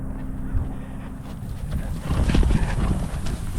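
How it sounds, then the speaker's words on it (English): A horse with a rider passing nearby outdoors, its hooves clip-clopping in a steady walking rhythm that grows louder toward the end over low background noise. "Let's take a look at the nice lady on the horse."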